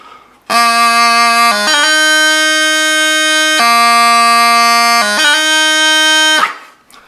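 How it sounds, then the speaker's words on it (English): A bagpipe plays an open, light D throw: a sustained note with drone, broken by quick gracenote flourishes into a steady melody tone, loud and close, no voices. "The first kind is the open or light D throw, which sounds like this."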